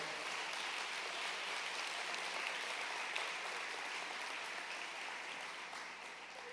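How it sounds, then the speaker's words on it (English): A large audience gives a round of applause for board members standing at a food bank's leadership award celebration. The dense, steady clapping runs throughout without pause and fades slightly at the end. "Let's give them a round of applause."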